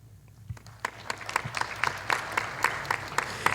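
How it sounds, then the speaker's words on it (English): At a symposium, audience applause builds from near quiet into scattered, individual claps that grow denser and steadier, moderately close and fairly soft, with a low hum underneath. "We would also like to give them a round of applause as well."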